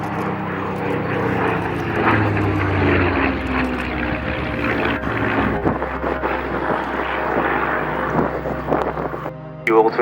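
World War II propeller aircraft of the Battle of Britain Memorial Flight fly past at the Cosford Airshow 2022 with a strong, sustained engine drone that swells and fades, while a commentator talks over the noise.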